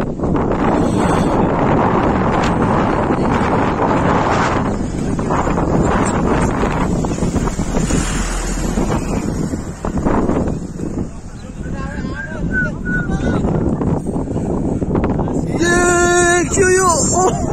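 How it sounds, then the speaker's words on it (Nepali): Strong wind roars and buffets the microphone at the Babai Bheri diversion multipurpose hydropower project site in Nepal, loud and continuous throughout, with voices faintly audible beneath the gusts. "कडा हावा चल्यो हाम्रो"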